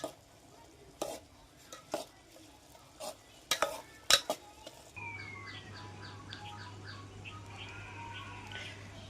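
Kanijara greens in a pan are mixed with red chilli powder, coriander-cumin powder and turmeric, a run of sharp spoon-against-pan knocks and scrapes that gives way to a faint hiss with birds chirping in the distance.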